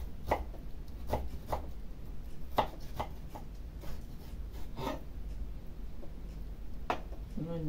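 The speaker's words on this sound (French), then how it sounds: "On va couper un petit cube, hein." Knife chopping vegetables into small cubes on a board for a mixed salad, a string of sharp irregular taps close by, some in quick pairs, over a low background hum with faint speech.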